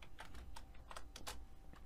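Keys clatter on a computer keyboard as code is typed for a blog app's admin dashboard, an irregular run of quick, close clicks in short bursts, with no voices.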